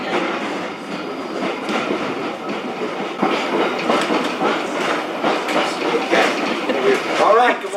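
A vintage streetcar on Edmonton's High Level Bridge rumbles along rails with rhythmic clickety-clack and occasional squeals, while voices talk over the steady ride noise.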